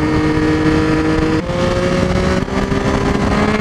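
A Triumph Street Triple and a Ducati 959 Panigale ride through Bath, a loud, close, steady engine drone with two abrupt shifts in pitch like gear changes, no speech over it.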